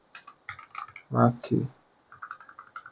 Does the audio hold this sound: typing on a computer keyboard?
yes